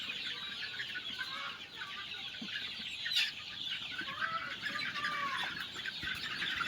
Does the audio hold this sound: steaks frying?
no